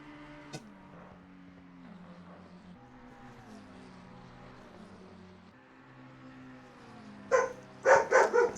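A dog barks several times in quick succession near the end, loud and close, over the steady hum of racing-game engines from a console endurance race at Spa-Francorchamps.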